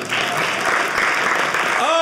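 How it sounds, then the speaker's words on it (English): Audience applause at a stand-up comedy show, steady clapping from a crowd filling the whole moment, close and fairly loud, with no speech over it. "Clap your hands"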